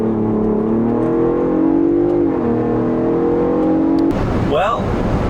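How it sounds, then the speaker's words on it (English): Ford Bronco driving with sport mode and Baja exhaust mode engaged, a steady loud engine and exhaust drone rising slightly in pitch, then a shift to rougher road and wind noise near the end, with a voice talking over it. "I'll turn on sport mode and I'll turn on the Baja exhaust mode"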